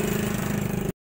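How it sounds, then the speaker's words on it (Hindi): A generator at a petrol pump runs alone, a close, steady pulsing engine drone that cuts off abruptly near the end. "जनरेटर है ये भी, इधर ही इसी में आपको मिलेगा"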